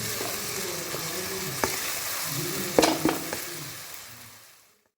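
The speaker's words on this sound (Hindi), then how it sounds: "सोया सॉस और इन सबको हम अच्छे से भून लेंगे।" Chicken fried rice ingredients with capsicum being stir-fried in soy sauce, a steady close sizzle with a few sharp spatula scrapes and taps before it fades out.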